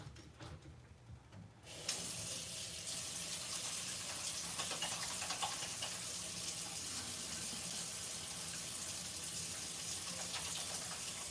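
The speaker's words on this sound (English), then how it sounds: "Let me wash my hands really quick." Tap water runs steadily into a sink during a quick hand wash, starting after a short quieter moment and then gushing on without pause, fairly close and loud, with no talking over it.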